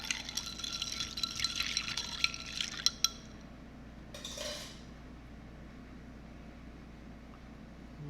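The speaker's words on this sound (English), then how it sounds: "Let's stir some more." Glitter iced tea being stirred in a pitcher makes quiet clinking and swirling of liquid for a few seconds, then a brief soft swish before it fades to near silence, with no talking.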